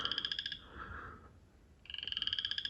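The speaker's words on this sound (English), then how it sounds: "I think y'all can hear the tree frogs." Fast, buzzy trills of tree frogs, one burst fading out, a short lull with a faint low call, then another burst starting up.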